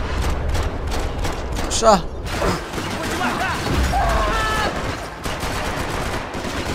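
Gunfire in the shooter Max Payne 3 comes as bursts of rapid shots with metallic clatter and impacts over several seconds, close and loud, while someone shouts excitedly over the shooting.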